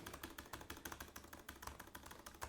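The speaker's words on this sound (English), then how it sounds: "as you start pressing on the bigger keys, there's a little bit different sound" The larger keys of a Samsung Smart Keyboard Trio 500, with scissor-style switches, are pressed in a quick rhythmic series, giving soft, faint, slightly fuller clicks at a close distance with no voices.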